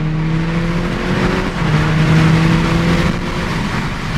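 A car engine revs and accelerates loudly from inside, its note rising and holding steady as the driver presses the gas on a road near a bridge.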